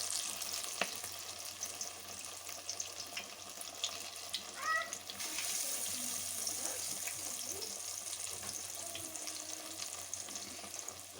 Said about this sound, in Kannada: ಎರಡು ಸೈಡು ಡೀಪ್ ಫ್ರೈ ಮಾಡಿಕೊಂಡು ಬರೋಣ.